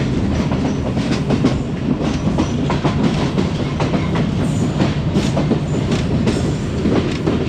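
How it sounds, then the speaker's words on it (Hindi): A Karachi Express passenger train hauled by a Blue Tiger AGE30 locomotive approaches Sahiwal railway station. Its wheels keep up a loud, steady rumble and clickety-clack on the rails, heard from on board with no talking. "ट्रेन हमारी इस वक्त अब साहिवाल रेलवे स्टेशन पे अप्रोच कर रही है।"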